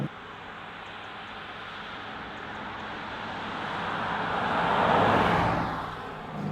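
A Bentley Continental GT V8 S accelerates hard on a wet road, a steady broadband rush of engine and tyre spray that swells to a peak near the end and then eases slightly, with no talking.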